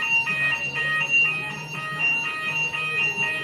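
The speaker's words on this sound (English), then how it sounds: "Look, they've stuck on an alarm." Alarm sounding steadily at a protest, a repeating high electronic tone pulsing in a regular rhythm, moderately loud, over crowd noise and faint voices.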